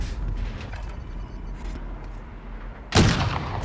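Muffled, distant rattle of gunfire in Call of Duty: Warzone drones under steady rumble, then a sudden loud, close shot or blast cracks near the end.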